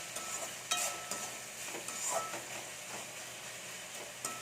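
Cooked tomatoes and onions are pressed and mashed with a ladle in a pan for a brinjal dish, making faint soft scrapes and taps over a quiet sizzle.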